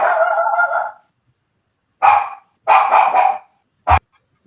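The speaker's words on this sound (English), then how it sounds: "Whose dog is that?" A dog barks nearby: one long rough bark, then a pause and a short run of loud barks ending with a sharp single yap.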